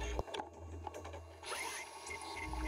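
A Haas VF4 CNC mill spot drills aluminum, a steady whirring cut with a brief tonal whine, heard close and fairly even in level under a constant machine hum.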